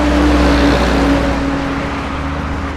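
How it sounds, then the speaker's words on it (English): Dense traffic on the Thika road in Nairobi, Kenya, rolls past in a loud continuous roar, engines droning steadily with a faint whine of passing vehicles layered over the broad wash of noise. "The sound of traffic on the Thika road in Kenya's capital, Nairobi."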